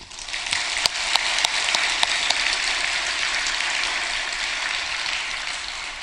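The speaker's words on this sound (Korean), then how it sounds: "박수를 쳐주고 싶어." A church congregation applauds in a steady, dense wash of clapping, with a few sharp, louder claps standing out early on, and no talk over it.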